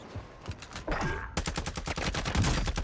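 Rapid bursts of gunfire from enemy players in a multiplayer shooter video game, sharp repeated cracks crowding together into dense volleys, fairly loud with no talking over them.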